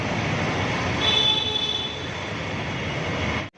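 A Kochi Metro train rumbles steadily at a station platform, a loud, even roar of wheels and motors with a thin high whine rising briefly midway before the sound cuts off.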